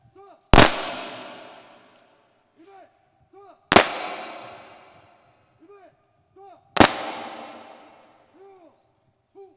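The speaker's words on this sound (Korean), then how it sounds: "또 조총 소리에 놀라지 않도록 주의해 주시기 바랍니다." An honor guard fires a ceremonial rifle volley salute at a memorial service, three loud sharp volleys evenly spaced about three seconds apart, each ringing out with a long decaying echo, and birds chirp faintly between them.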